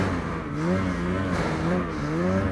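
Ski-Doo Summit Expert Turbo snowmobile engine revs close and loud, its pitch rising and falling in waves during a mountain ride.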